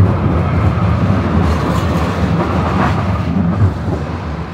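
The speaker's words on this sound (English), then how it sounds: "I think it was a train." An H line light rail train rumbles past in downtown Denver, a steady loud low roar with faint rattling that holds throughout.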